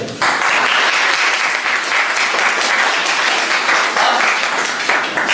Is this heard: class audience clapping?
yes